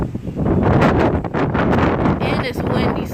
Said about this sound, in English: And it's windy, so I have to go by because it's too windy.